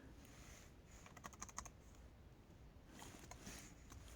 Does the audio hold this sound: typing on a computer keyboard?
yes